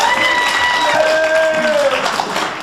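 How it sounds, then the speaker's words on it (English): Studio audience clapping and cheering at a comedy panel show, a dense continuous wash of applause with tonal whoops and sustained voices rising over it, steady and fairly loud throughout. "Lots of clapping from the women in the audience, I notice."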